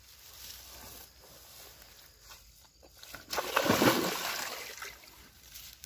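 A carp of nearly 15 kilograms, released by hand into a lake at a sport-fishing spot in Araucária, splashes away hard mid-clip, a close burst of churning water over quiet outdoor ambience.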